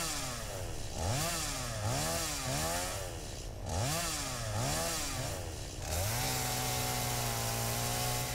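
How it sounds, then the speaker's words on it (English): In the video game Satisfactory, a chainsaw cuts down trees, its engine revving up and down in repeated rising and falling sweeps, then settling into a steady, loud high-pitched drone near the end. "Now, chainsaw. Nice. Here we go. Let's start cleaning up some of these trees around here."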